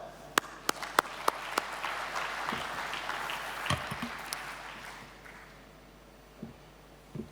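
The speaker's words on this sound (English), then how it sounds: "Give yourselves a clap." A conference audience at Rebuilding Nations 2020 applauds, starting with a few sharp individual claps and then swelling into a broad wash of clapping that fades out, with a couple of late claps.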